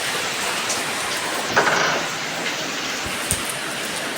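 Steady rain pours outside a home in Bangladesh during a flood-threatening downpour, a dense, continuous hiss with a few brief louder taps, close and alone with no voices.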